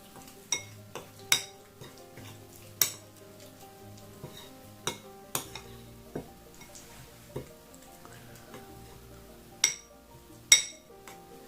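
A spoon clinks against a bowl while honey is stirred into miso soup with ginger, giving scattered, sharp metallic taps at an irregular rhythm, close by and fairly quiet with no talk.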